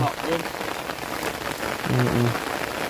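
Steady heavy rain pours down outdoors, a dense continuous hiss close by, with brief faint voices breaking through partway.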